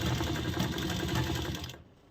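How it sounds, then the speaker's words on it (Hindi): A sewing machine runs a steady, fast, close-up stitch along a folded seam on a six-panel palazzo trouser, whirring continuously before slowing and stopping near the end. "मोड़ने के बाद हमारी जो सिलाई है वो इसी पे चला लेंगे।"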